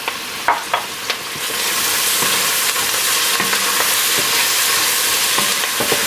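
Pepperoncini dropped into a hot pan with bacon: a few small clicks, then a loud, steady sizzle and crackle of frying that fills the rest of the moment, with no talking.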